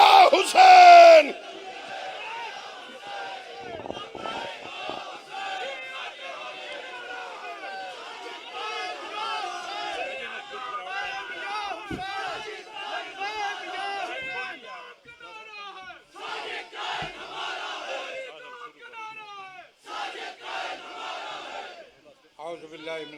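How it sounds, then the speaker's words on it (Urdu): Large crowd at an Ulama and Zakireen religious conference in Islamabad chanting a slogan in unison, loud and sustained, with a leader's voice at the start and waves of voices continuing throughout. "نعرے کے ساتھ لبیک یا حسین"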